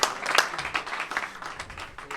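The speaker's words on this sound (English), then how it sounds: "Warren Kiamco. Round of applause." Spectators at a 9-ball pro pool tournament final applauding the second-place finisher, Warren Kiamco, a steady patter of clapping from a modest crowd, moderately distant and lasting about two seconds.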